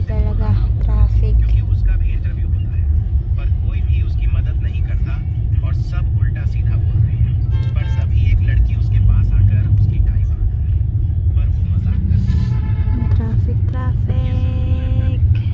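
City road traffic in Lahore, Pakistan rumbles as a constant loud low drone of engines from inside the flow, with horn-like tones and voices talking over it throughout.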